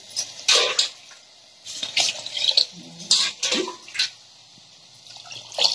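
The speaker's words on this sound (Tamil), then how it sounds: "இதுலயே நான் வந்து 1:2 அதாவது 2 டம்ளர் அரிசிக்கு 4 டம்ளர் தண்ணி ஊற்றிக்கலாம்." Water is poured over soaked rice in a pot for mutton biryani, a series of splashy pours and trickles in short bursts, close and fairly quiet.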